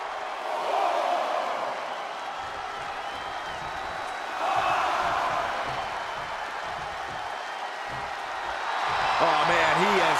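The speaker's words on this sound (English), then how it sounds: "The WWE Universe is showing their appreciation for the action they're seeing." An arena crowd cheers in a WWE wrestling video game, a steady moderate roar that swells in waves, with a voice rising briefly near the end.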